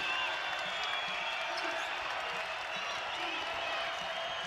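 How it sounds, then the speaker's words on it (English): The home crowd at an NMSU men's basketball game against UVU in 2022 roars and applauds in a dense, steady wash of noise that holds evenly throughout. "And here comes the crowd in the home finale."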